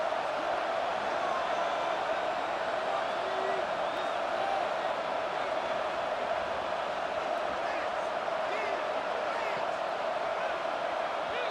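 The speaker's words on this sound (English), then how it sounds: "The crowd elevating its energy, willing this defense to get a stop on this big third down" A football stadium crowd at a South Carolina versus Vanderbilt game roars in a dense, continuous wash of cheering that swells steadily on a big third down, heard from within the stands with speech mixed in.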